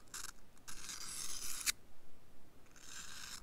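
A knife blade is pushed forward along a sharpening stone with light pressure, making dry, gritty rasping strokes: one long scrape, a short break, then another stroke, close and fairly quiet.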